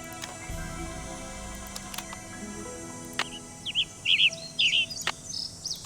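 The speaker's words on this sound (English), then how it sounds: "American goldfinch." American goldfinch calls from a Nancy Drew video game: a few quick, high chirpy twitters in short bursts near the end, over a faint background hum with a couple of soft clicks.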